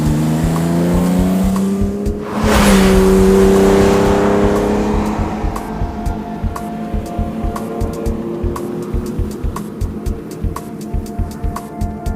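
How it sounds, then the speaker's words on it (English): A 1980 BMW M1 homologation sports car engine revs loudly up close, surging in a sharp rise, then settling into a steady, throbbing idle with rhythmic pulses; no talking. "This is what happens. BMW's M1."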